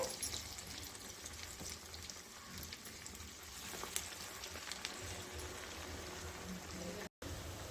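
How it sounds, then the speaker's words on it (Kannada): Bonda batter frying in hot oil, a dense continuous crackling sizzle like steady rain, close and even throughout with a momentary dropout near the end. "ನೋಡಿ ಇದನ್ನು ಚೆನ್ನಾಗಿ ಎಣ್ಣೆಯಲ್ಲಿ ಫ್ರೈ ಮಾಡಿ ತಗೋಬೇಕಾಗತ್ತೆ"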